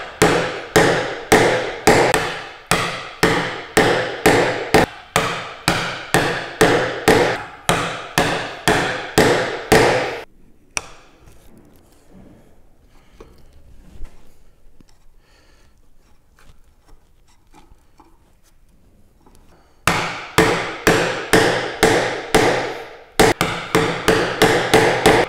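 A mallet drives a chisel to chop a mortice in wood by hand, with rapid evenly spaced sharp blows in two long runs separated by a quieter stretch of scraping and handling.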